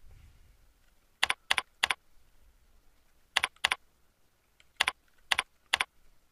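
A username is typed on a computer keyboard in a quiet room, heard as three short groups of crisp key clicks, two to three keystrokes each, separated by pauses.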